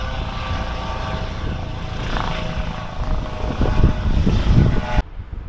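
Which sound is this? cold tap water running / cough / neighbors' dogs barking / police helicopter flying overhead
police helicopter flying overhead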